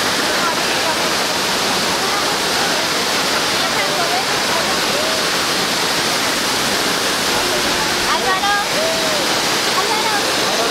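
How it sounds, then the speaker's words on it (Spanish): The Quetzalapan cascade near Chignahuapan and Zacatlán de las Manzanas, a loud, constant waterfall roar that stays steady throughout, with faint voices briefly audible beneath the rushing water. "Una belleza de cascada."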